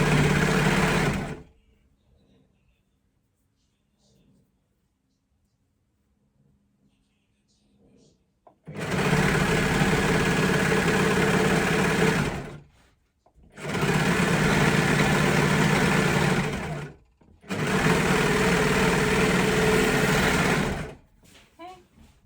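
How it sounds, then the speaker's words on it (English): An overlocker stitching a sweater seam runs in three loud, steady whirring bursts of a few seconds each, separated by short pauses, following a quiet stretch at the start. "Do not sew over your pin on your overlocker."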